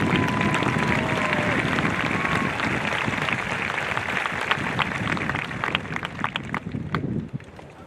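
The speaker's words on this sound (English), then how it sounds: "Would you please give these individuals a round of applause?" A crowd at a commencement ceremony applauds in a dense, steady wash of clapping that holds for several seconds, then thins into scattered claps and fades near the end.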